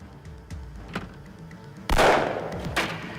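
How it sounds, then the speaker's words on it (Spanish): A single sharp, loud gunshot bursts out after a few faint knocks and clicks, its blast trailing off with a brief echo. "Se oyó un disparo."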